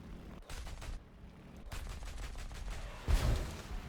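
Aircraft cannons and machine guns in War Thunder fire a deflection shot at a Yak-3U fighter. Several short, fairly quiet bursts build to a louder burst near the end, with no talk.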